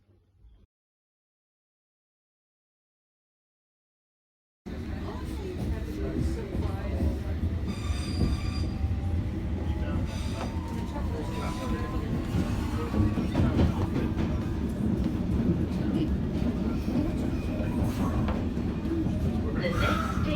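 A London Underground train runs towards Cannon Street station. After a short silence it comes in as a loud, steady rumble of wheels on rails, with drawn-out squeals from the wheels and a clatter that rises and falls, heard from inside the carriage.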